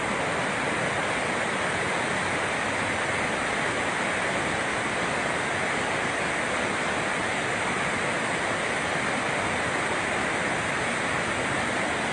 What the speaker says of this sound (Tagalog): Ito na yung tubig na lumalabas sa Magat Dam.